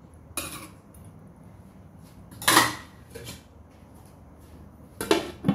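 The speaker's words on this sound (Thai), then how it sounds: "ปิดฝาไว้ค่ะ" A lid goes onto a cooking pot of pickled mustard green and chicken soup with a few faint metallic clinks and clatters, including one sharper clank and a final rattle, all close and fairly quiet.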